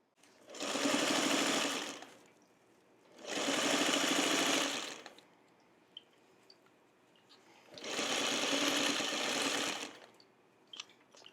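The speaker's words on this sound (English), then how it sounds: "Now I'm going to take this to my sewing machine" A sewing machine stitches around a fabric potholder in three steady whirring runs of about two seconds each, separated by quiet pauses with small clicks as the fabric is repositioned, close and clear.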